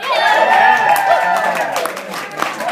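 Dancers at a wedding reception cheer loudly, a dense crowd roar with whoops and scattered clapping that stays steady and close throughout.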